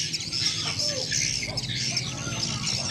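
A swiftlet lure call from a speaker at a swiftlet bird house plays dense, repetitive high-pitched chirping and twittering continuously, loud and close, with a faint low hum underneath.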